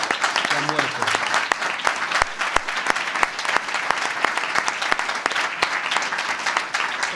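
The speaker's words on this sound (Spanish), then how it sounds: "Un aplauso para estos trabajadores que han muerto." Audience applause at a Podemos citizen meeting in Nerva for two workers who died: dense, sustained clapping from a crowd, steady and fairly loud, with a voice briefly heard at the start.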